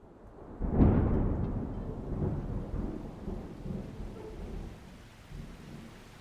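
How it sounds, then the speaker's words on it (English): A deep roll of thunder breaks early, then steady rain keeps pouring with low rumbling underneath, loud and close throughout. "Another barrage of rain sends the water levels even higher"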